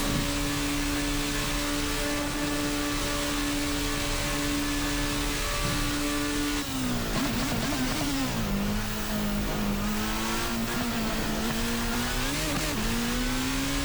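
Formula RSS Supreme race car engine in Assetto Corsa, a steady high drone held for several seconds, then dipping and climbing again as the revs shift with wheelspin on corner exit, loud and close throughout with no talk.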